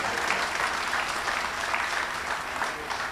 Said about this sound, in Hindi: ताली बजा दो, भाई से मेहनत कर रहे हैं।